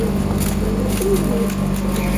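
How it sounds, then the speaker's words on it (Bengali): Panjabi Malbai pigeons coo among a flock at a pigeon sale, soft low calls repeating under steady, dense background noise and a constant hum. "নিশ্চিন্তে গ্যারান্টি দিয়ে মাল নিতে পারেন পাঞ্জাবি মালবাহী পায়রা।"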